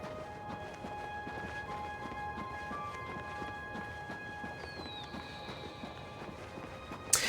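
A horse's hooves clip-clop at a steady trot in the game Oblivion Remastered, a quiet rhythmic patter under soft ambient wind and tones, with a brief bump at the end.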